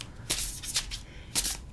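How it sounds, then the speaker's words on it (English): A hefty Circle of Doors tarot deck being shuffled by hand, two short bursts of riffling card noise close up with a brief pause between, no voices. "Let me try a little shuffle."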